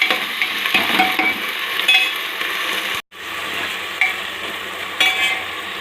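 Onions and potatoes fry in a pan with a loud, continuous sizzle and repeated stirring scrapes, broken by a brief gap before the crackle resumes at the same level.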